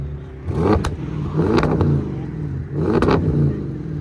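An Audi S7 with a 4.0L twin-turbo V8 and straight pipes revs hard against the rev limiter, giving three loud, close blips that each rise and bounce off the limiter with a crackle, separated by a lumpy idle.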